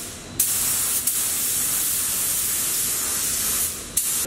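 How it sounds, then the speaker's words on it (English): A spray gun applies 2K two-part clear coat over parts being blacked out from chrome: a steady, loud, broadband hiss of atomized spray that runs continuously, starting and stopping with brief trigger clicks. "I'm using the same spray gun and the same air pressure."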